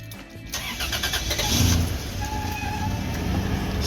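A Toyota Prado 90 3.4L V6 engine (5VZ-FE) cranks and catches after a spark plug replacement, then settles into a steady, rough idle close by.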